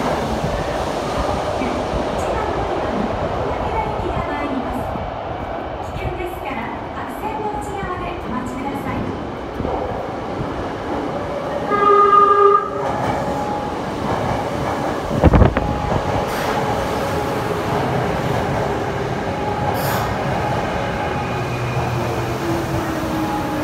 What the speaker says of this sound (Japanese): 武田行きがやってきましたね